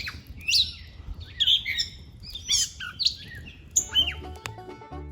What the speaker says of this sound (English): the forest was alive with birdsong